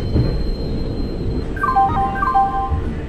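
Train noise from the Indian Train Simulator game as a Passenger Express arrives at a platform: a low continuous rumble with thin high squealing tones and a brief melodic chime sequence, loud and close.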